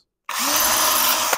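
A cheap handheld power drill bores a quarter-inch pilot hole into a powder horn, whining steadily at full speed for about a second after starting abruptly from silence, close and loud.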